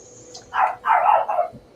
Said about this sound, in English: Now we hear you, dog.